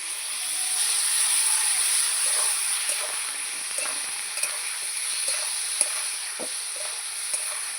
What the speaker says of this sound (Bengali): মশলার জলটা দিয়ে আর একটু কষিয়ে নেব